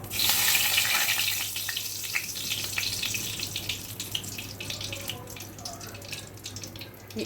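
Whole cumin seeds and bay leaf hit hot oil for tempering, a bright crackling sizzle that starts strong and settles into a steady fizz with scattered pops, close and alone.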